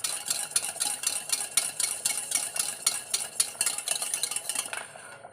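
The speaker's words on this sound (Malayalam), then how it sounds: "തൈര് ഒഴിച്ച് കൊടുക്കാം." Packet yogurt, mashed smooth, is poured into a pumpkin pulissery curry and stirred. A spoon scrapes a pot in quick, steady strokes with light clinks. The stirring is close and continuous, with no talk, and it fades at the end.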